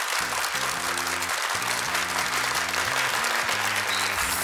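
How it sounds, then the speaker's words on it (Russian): A television game-show studio audience applauding loudly and continuously, a dense crowd clapping over a repeating musical jingle with a rhythmic bass line. "Вадим, Карина, аплодисменты нашей студии"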